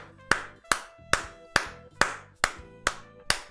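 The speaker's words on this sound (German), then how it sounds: "Ich will Applaus sehen. Applaus für uns" Eight sharp, evenly spaced single claps ring out close and distinct, about one every half second, with quiet gaps between them and no crowd noise around them.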